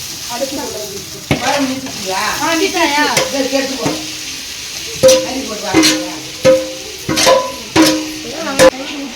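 Food being stirred and sautéed in a frying pan during home cooking, with a steady sizzle and repeated sharp scrapes of the utensil, while voices talk in the background.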